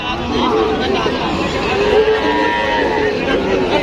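Cattle low repeatedly at a crowded Qurbani livestock market in Faridpur, Bangladesh, where heifers and cows are for sale; several drawn-out moos rise over a steady murmur of voices and market bustle.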